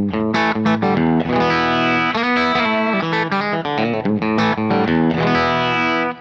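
Distorted electric guitar played through a Kemper amp profile of a Morgan amplifier, a steady run of loud, dense chords and notes with effects and slight chorus, continuous with no pauses and no talking.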